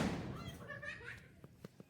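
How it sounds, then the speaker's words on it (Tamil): Firecrackers bursting at a home Pongal celebration: a few short, sharp cracks, some close and some farther off, fairly faint amid background voices. "அங்கால வெடி கொளுத்தி கொண்டே இருக்கிறேன்."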